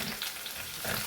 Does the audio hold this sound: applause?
no